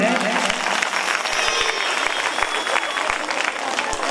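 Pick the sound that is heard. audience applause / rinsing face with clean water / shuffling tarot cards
audience applause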